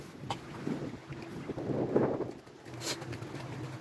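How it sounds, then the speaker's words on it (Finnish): Strong wind gusts against the microphone from a boat on a lake in eastern Finland, with big waves sloshing and slapping against the hull in uneven surges. "Täällä tuulee niin paljon, että on ihan sairaan isoja aaltoja"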